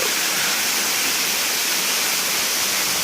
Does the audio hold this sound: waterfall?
yes